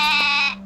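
A cartoon goat gives one short, bright bleat, close and clear, wavering briefly before cutting off.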